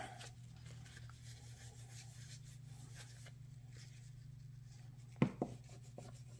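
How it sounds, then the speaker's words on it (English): A cleaning block rubs grime off a sprayed, grungy hand tool, giving a faint, steady scrubbing texture under a low electrical hum, with two brief knocks near the end. "So just spray that on here. And then rub till it gets nice and clean."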